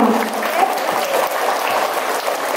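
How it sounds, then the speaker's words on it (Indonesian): Audience applause for schoolchildren at an Independence Day anniversary celebration at SDK Santo Don Bosco, a primary school in Palangka Raya: steady, dense clapping from a sizeable crowd, sustained evenly throughout. "Tepuk tangan untuk anak-anak kita."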